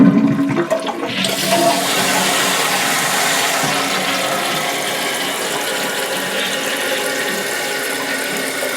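A toilet flushing after a new flapper valve is fitted, opening with a click of the handle, then a loud rushing surge of water that settles into a steady draining and refilling hiss.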